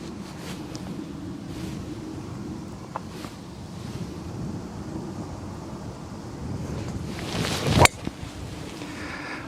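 Wind gusts across an open golf course, buffeting the microphone in a steady low rumble that swells into a sharp loud burst near the end, with no voices.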